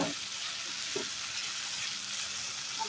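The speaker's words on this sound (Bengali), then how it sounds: "ভালো করে আগে ভাজা হোক" Vegetables fry in a pan with a continuous, fairly soft sizzle and a few faint utensil taps, no voices.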